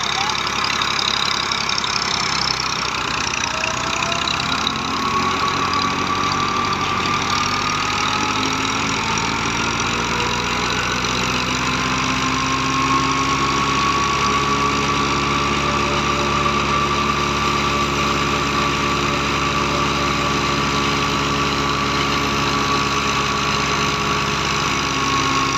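An old-model Massey 240 tractor engine runs steadily, a close, loud mechanical drone with layered humming harmonics whose pitch slowly rises and settles, unbroken from start to end.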